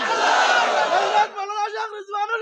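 A gathering crowd at a Bangla waz roars a loud, massed takbir chant of Allahu Akbar, then breaks off into a shorter ragged call of voices.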